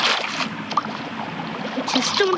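A boat glides over water in Minecraft, a steady soft watery wash with faint splashes, while someone talks quietly over it.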